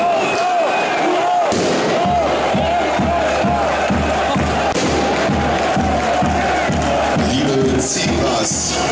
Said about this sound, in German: Zebras, bitte unterlasst das Feuerwerk.